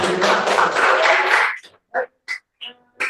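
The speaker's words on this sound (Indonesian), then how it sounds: "Tepuk tangan." Students in a classroom clap for a classmate in a short, dense burst of about a second and a half. After it a few quick, sharp noises and short vocal sounds come.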